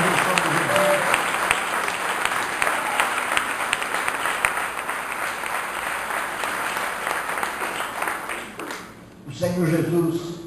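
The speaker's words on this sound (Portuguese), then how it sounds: "Dê um aplauso ao Senhor pela vida dele" Sustained applause from a church congregation at a worship service, broad and steady with dense clapping for about nine seconds, then dropping off as a voice starts speaking near the end.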